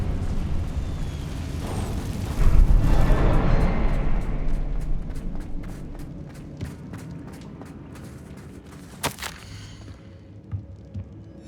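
A Confringo spell explosion in the wizarding video game Hogwarts Legacy: a loud fiery burst that swells and rumbles, then decays over several seconds, with sharp crackling pops and a bright snap near the end.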